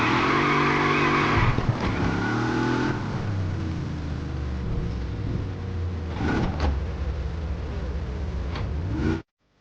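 A car in the video game Wreckreation drives steadily with a loud engine drone and long tire squeals as it skids and drifts, the pitch rising and falling before the sound cuts off abruptly.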